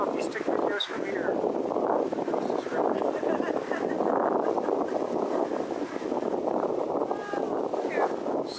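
Strong wind at Garganta del Diablo gorge near Tilcara buffets the microphone in a constant, loud roar with gusty surges and no break throughout.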